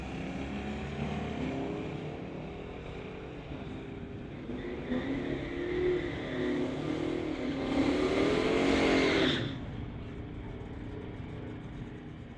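A GMC truck and a 2005 Dodge Charger launch down a drag strip, engine roar heard from a distance, building to a louder surge before cutting off, with no talk.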